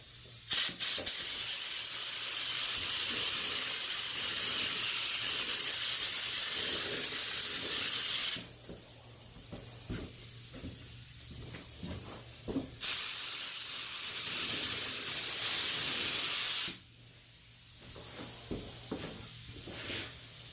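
A spray gun lays a light clear coat over Suzuki Intruder motorcycle paint: two long, steady, close hissing bursts of about eight and four seconds, separated by quieter pauses with faint shop noise.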